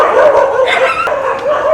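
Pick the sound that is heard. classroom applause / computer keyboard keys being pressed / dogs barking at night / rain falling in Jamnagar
dogs barking at night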